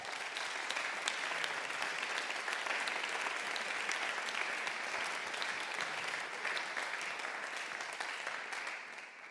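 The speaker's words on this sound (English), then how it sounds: "give yourselves a round of applause" A music teachers' conference audience breaks into sustained, full-room applause after a keynote, a dense, even clapping that holds steady and starts to fade right at the end.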